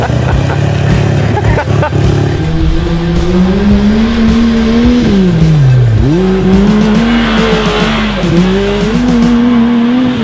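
A loud Yamaha YXZ1000R converted into a sprint car roars continuously, pitch rising and falling as it accelerates and lifts off around a track, with tire noise throughout.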